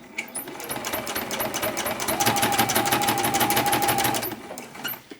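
A sewing machine top-stitches around the edge of a fabric bin made from fat quarters, running a loud, close, even burst of rapid needle strokes for several seconds before slowing and stopping.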